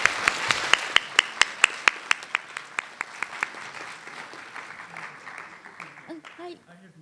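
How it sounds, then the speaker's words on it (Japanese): Applause from a conference audience after a lecture, beginning with a burst of sharp, near, rhythmic hand claps and thinning into softer, scattered clapping as a speaker's voice returns. "皆様大きな拍手お送りください"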